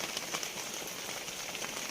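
Continuous rainfall patters on a surface nearby, a soft, even wash of drops with faint scattered taps and nobody talking.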